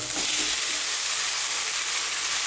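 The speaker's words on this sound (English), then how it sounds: "Now for our tomatoes, in they go." Tomatoes drop into a hot pan of cooking onions and sizzle with a steady, close, loud hiss that continues unbroken.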